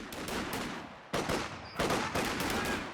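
Rifle fire crackles in a Company of Heroes 2 battle, with rapid overlapping shots and sharp louder bursts around one and two seconds, dense and continuous with no talking.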